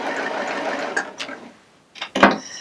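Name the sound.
Baby Lock Applaud cover stitch serger stitching yarn cording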